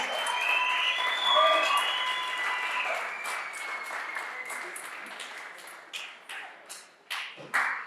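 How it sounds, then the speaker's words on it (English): A conference audience applauds a CEO guest speaker, loud sustained clapping that swells early and gradually thins, with a few louder isolated claps and thumps near the end. "Please give him a round of applause."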